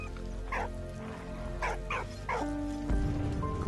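A dog in Valiant Hearts gives a series of short, high yips and whimpers, several in quick succession over a steady game music bed, close and moderately loud, with no voices.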